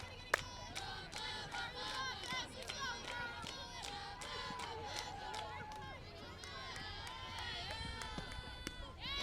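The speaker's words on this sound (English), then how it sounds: "it seems like both benches are really cheering on their teammates as they go up to bat" Softball team benches cheer and chant for teammates heading up to bat during a varsity game, a steady babble of raised voices with claps and shouts running throughout.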